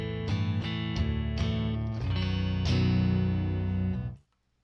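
Baritone-tuned Mexican Telecaster with a Filtertron pickup in B standard, strung 12 through 62, heard as a series of strummed chords with a repeated rhythmic attack, then a final ringing chord that sustains and cuts off sharply; close and fairly loud.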